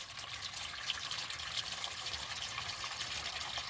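A steady stream of hot, thin engine oil pours and splashes continuously into a drain pan, a soft, even gushing with no pauses.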